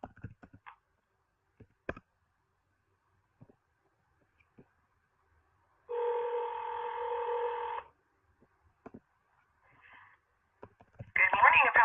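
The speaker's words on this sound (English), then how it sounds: "Please hold while I transfer your call to that extension." Telephone tones sound while a caller is transferred to an extension at a court clerk's office: scattered clicks, then a sustained two-tone beep, then another tonal burst near the end, with a voice over the line.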